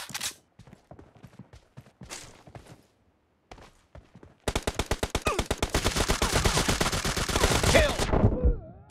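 Gunfire in PUBG Mobile Domination mode: a few scattered shots and clicks give way to a long, loud burst of rapid automatic fire that keeps going for several seconds.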